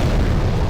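A loud, close explosion in the Demon's Souls video game, a dense booming rumble filling a short burst with no break.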